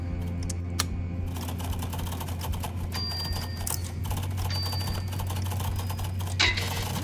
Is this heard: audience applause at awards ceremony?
no